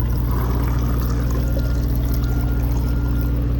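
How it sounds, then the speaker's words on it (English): Water pours steadily from a container over a geocache container held outdoors, a continuous splashing flow with a steady low hum beneath, close and fairly loud throughout, with no talking. "and pour the water"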